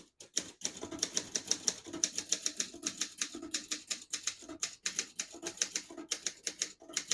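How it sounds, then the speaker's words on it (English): A 1972 Olympia SM9 portable manual typewriter typing a line in red ribbon, a steady run of sharp, close key strikes in quick irregular rhythm with brief pauses, no voices. "I'll type a sentence in red on the next line."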